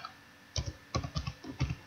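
Someone types on a computer keyboard in several quick bursts of close, crisp key clicks with short pauses between them, heard alone in a quiet room.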